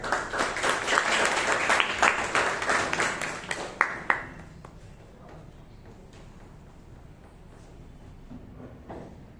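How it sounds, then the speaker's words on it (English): A Toastmasters club meeting audience in Bangalore breaks into a few seconds of lively, close clapping that quickly thins out to scattered claps and then a quiet room. "Please give a round of applause for him"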